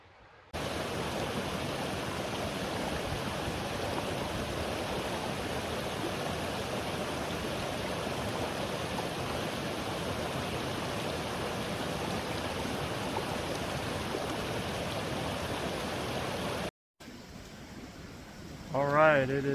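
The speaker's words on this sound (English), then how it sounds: "We've made it to the main river where we fill up our water bottles." A mountain river in the Trinity Alps rushes steadily on a backpacking trip, a close, continuous broadband wash of flowing water that cuts off briefly near the end before resuming more faintly.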